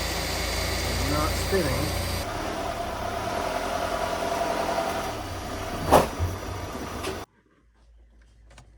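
A high-mileage car engine idles steadily in the background, a low continuous rumble under a man's speech, with a brief clunk near the end before the sound cuts off.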